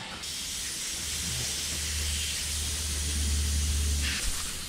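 Air hisses steadily from a tyre valve while a wheel is inflated, a loud continuous rushing hiss close by over a low mechanical drone for several seconds.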